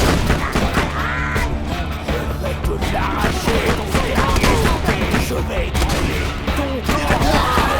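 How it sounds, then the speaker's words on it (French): Rapid bursts of gunfire from an Uzi firing two bullets at a time in Borderlands 2 crack loudly and continuously over busy game sound, with a voice speaking underneath. "Il tire 2 par 2 balles en fait."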